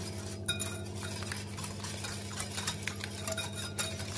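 Oil and sugar stirred together in a bowl for chocolate cake batter, giving soft continuous scraping and occasional light clinks of a utensil over a steady background hum.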